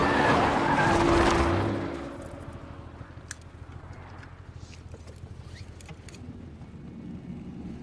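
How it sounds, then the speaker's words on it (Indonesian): A car driven recklessly at night in a film scene, a loud tire skid and rushing engine in the opening seconds, dying away into a quieter rumbling interior with scattered faint clicks. "Tuan Glass menyetir ugal-ugalan malam itu."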